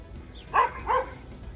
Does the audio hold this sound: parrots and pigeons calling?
no